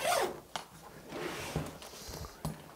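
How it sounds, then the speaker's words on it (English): The zippers on a ThinkTank Airport Security V3 camera bag are pulled open in short, quiet rasping strokes, close by, with a couple of sharper clicks and rustles between them. "I'm gonna undo the lock, which releases the zippers"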